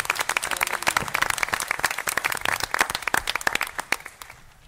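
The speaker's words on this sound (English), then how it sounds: "If we could have a big round of applause for these folks," A room full of people at a council debate clapping for the staff, dense overlapping applause held steady for several seconds before thinning out at the end.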